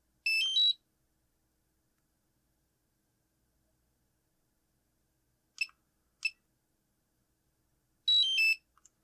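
Loud electronic alarm beeps from a DJI Mavic Pro drone remote controller: a short high-pitched chirping burst, two quick beeps in the middle, then another burst near the end, with silence between.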